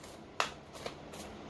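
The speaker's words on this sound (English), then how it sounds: "They told me to just open this up, shuffle 3 times, and cut." A deck of goddess oracle cards is shuffled by hand, giving three short, crisp riffles spaced apart in a quiet room.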